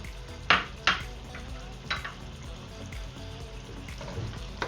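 White chicken curry with green chilli and ginger being stirred in a pot, several sharp spoon clanks against the metal over a soft simmering sizzle, with no talk.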